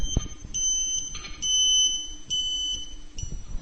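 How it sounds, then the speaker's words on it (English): A Ka-Sat satellite internet antenna alignment beeper gives high electronic beeps in uneven bursts, some short and some held longer, over faint mechanical clicks and rustle nearby. "Beeper tone will now get higher and reach finally a continuous high tone."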